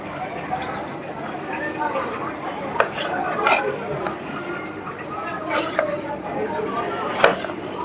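A knife chops through tomatoes on a board, a few sharp cuts standing out over a steady background of chatter and room noise while a person talks.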